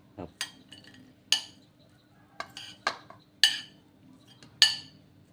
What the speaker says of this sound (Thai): คลุกเคล้าให้เข้ากันนะครับ